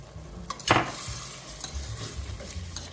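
Rice being stirred into a sausage mixture in a pan for jambalaya-style sausage and rice, with close scraping and clinking of a utensil, one sharp louder scrape early, over a soft sizzle and no talk.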